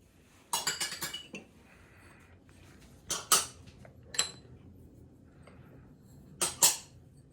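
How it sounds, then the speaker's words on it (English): Utensils clinking against a mixing bowl as dry ingredients for mocha chip cookie scones are stirred together, a few clusters of bright, close clinks separated by quiet gaps. "Now you mix all the dry ingredients first"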